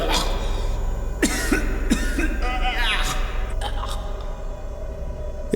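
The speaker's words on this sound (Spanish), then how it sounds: "Simplemente continuó tosiendo" Several harsh coughs spaced apart over a steady low hum, close and fairly loud, with bits of voice between them.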